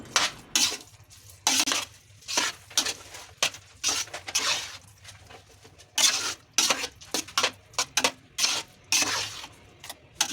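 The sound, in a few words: stirring pumpkin halwa with jaggery in pan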